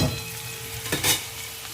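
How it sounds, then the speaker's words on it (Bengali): Potatoes, onion and chilli sizzle in a frying pan with a steady crackle, broken by a brief scraping stir near the middle. "আলুটা মোটামুটি ভাজা ভাজা হয়ে এসেছে।"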